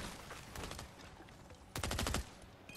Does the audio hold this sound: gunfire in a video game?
yes